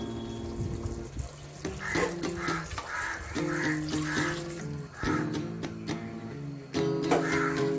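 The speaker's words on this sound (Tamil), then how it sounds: "இதுக்கு வந்து ஒரு நாலு கிளாஸ் தண்ணி ஊற்ற போகிறோம்" Water is poured from a glass into soaked rice for chicken biryani, about four glassfuls, in several short splashing bursts over a steady tonal background.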